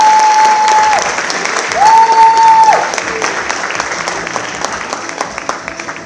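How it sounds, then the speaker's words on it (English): Audience applause at a student award ceremony, a steady wash of clapping from a crowd that gradually thins out. A brief tonal whistle rises above it near the start. "Let's give her a round of applause."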